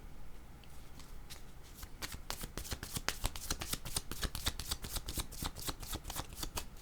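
Tarot cards being shuffled in a rapid riffle of dense crisp flicks that builds and continues steadily for several seconds, close to the microphone in a quiet room.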